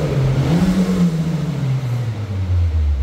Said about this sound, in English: we'll let the vehicle warm up and we'll give it a little rev now